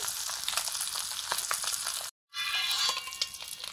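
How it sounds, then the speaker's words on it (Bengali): Eggs sizzle steadily in a hot pan as they fry for an egg curry, a dense crackling hiss that cuts out briefly to silence mid-way and then resumes just as strongly. "ডিমগুলোর এক পিঠ ভাজা হয়ে গেছে, আর এক পিঠ ভেজে নেব"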